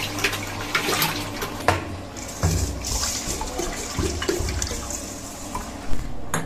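Tank water runs from a tap while rice is washed in a home kitchen, a continuous splashing stream with intermittent clatters and thuds of the pot and grains being handled.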